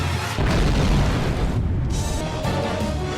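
A loud, deep explosion booms and rumbles on, with a broad roar that fades slightly and then surges again.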